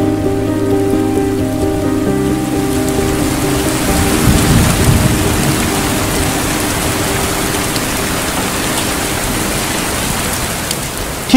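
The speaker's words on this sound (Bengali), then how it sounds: "হুড়মুড় করে বৃষ্টিটা নেমে গেল" A heavy downpour roars steadily and loudly while deep thunder rumbles underneath it, and no one speaks.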